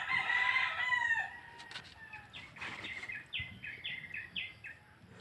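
A rooster crows once up close, then a chicken gives a series of short, rhythmic clucks, with some wing flapping and light handling noise in between.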